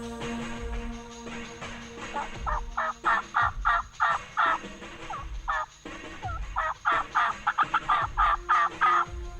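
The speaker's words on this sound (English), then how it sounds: "we finally got a bird to gobble" A wild turkey gobbles repeatedly in rapid rattling bursts, two clear volleys separated by a pause, fairly close in open woods with a quiet outdoor background.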